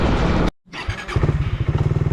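A motorcycle brought in for repair of a fault runs close and loud; after a brief cut-out its engine settles into a rapid, rhythmic pulsing idle.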